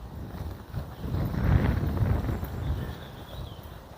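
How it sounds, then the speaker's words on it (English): Strong wind buffets and roars against the microphone in heavy, rumbling gusts that swell in the middle and ease off. "It's that windy, the gimbal is blowing."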